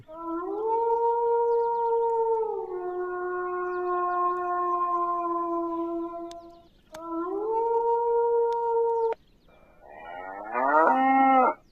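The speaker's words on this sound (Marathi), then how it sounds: "हे बघा म्हैस रेडको ओरडल्या का असा आवाज येतोय" Long, deep mooing calls from a buffalo on a farm, two drawn-out bellows close by, followed by a shorter rising call at the end.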